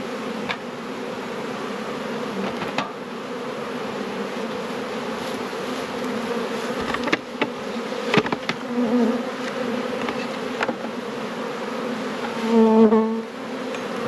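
Honeybees buzz steadily around an open beehive during an inspection, a dense, continuous drone close by with a few louder passes near the microphone.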